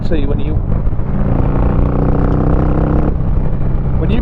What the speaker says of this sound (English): it has that Harley rumble to it.